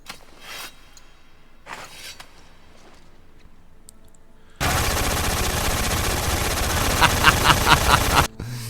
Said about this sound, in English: Yasuke can use a gun?